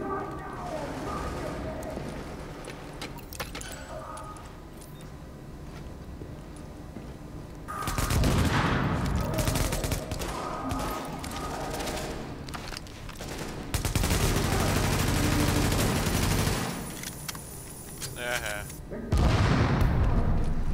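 Gunfire in the video game The Division, with dense bursts of automatic weapon fire and booms coming in loud waves, growing heavier in the second half, mixed with game audio and voices talking over it.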